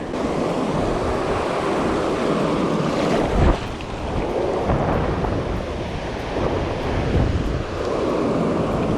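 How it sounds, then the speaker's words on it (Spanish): Waves surge and crash along an Argentine sea shore as the tide rises, a loud continuous roar close by, with heavy wind buffeting the microphone and one stronger swell breaking midway. "Está subiendo la marea, hay una marea terrible."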